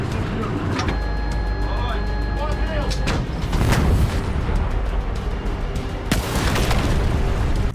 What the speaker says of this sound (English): Ukrainian artillery also joins the battle and opens fire at Russian column.